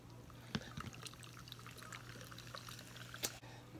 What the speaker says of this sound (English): I'm going to be pouring this in there.